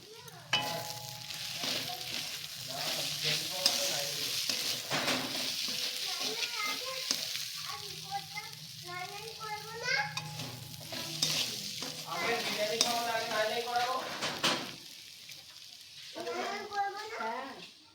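Spices stirred and frying in hot oil for egg biryani, a steady close sizzle with scraping stir strokes throughout, while voices talk intermittently over the cooking.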